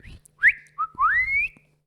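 A person whistles in imitation of Yondu's whistle from Guardians of the Galaxy: a short chirp, a rising glide and a long, bright sweeping note, close and clear, with no talking.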